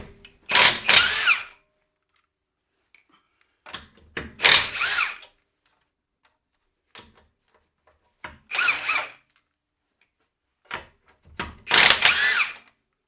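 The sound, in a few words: Milwaukee cordless impact wrench with 21 mm socket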